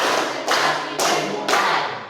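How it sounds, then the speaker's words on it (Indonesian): Classroom group doing a rhythmic concentration clap, with four sharp, evenly spaced claps about half a second apart, loud and close, each followed by a short decay. "kita coba tepuk konsentrasi di penghujung"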